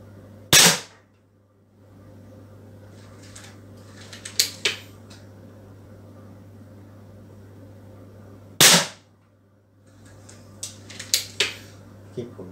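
A Beeman P17 air pistol fires two sharp cracks several seconds apart on a 35 m range, each followed by faint clicks and light handling sounds over a steady low hum.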